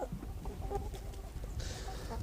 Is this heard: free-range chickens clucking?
yes